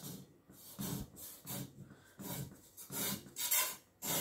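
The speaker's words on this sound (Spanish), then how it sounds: "con una espátula vamos a ir quitando por los bordes con mucho cuidado" A spatula scrapes around the edges of a cooled three-milk cake in its mold, making repeated rasping strokes in short bursts, close and moderately loud, with no talking.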